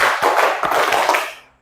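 Classroom group clapping hands together in a counted rhythm, a few close, loud bursts of many claps landing in step, then quickly fading to silence.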